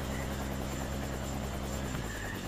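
A helicopter in the Dakar 18 off-road rally racing game thunders with a steady, loud rotor beat and engine whine throughout, heard alone with no voices.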